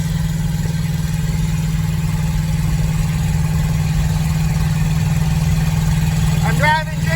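A 1959 Edsel's engine runs steadily while the car is driven gently, a loud constant low hum with no revving, and a short rattle near the end.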